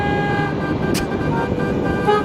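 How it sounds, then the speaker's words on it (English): Car horns honk at a scooter hauling a couch through traffic, a steady roadway din with engine noise and a brief sharp toot partway through, the horn fairly loud over the continuous traffic rumble. "Because I love the people honking at him."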